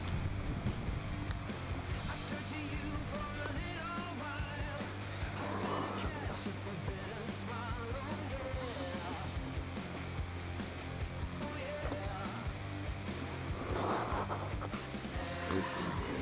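A 1/10 scale RC Bison car drives and drifts, its electric motor whining steadily under dense background noise, with faint voices mixed in throughout.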